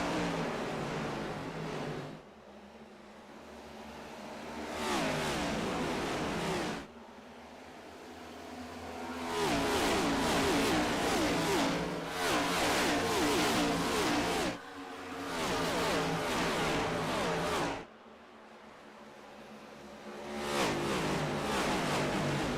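Stock cars race at Homestead Miami Speedway in a NASCAR sim-racing game, with loud engine roar surging and fading in waves as packs of cars pass, and brief dips between passes.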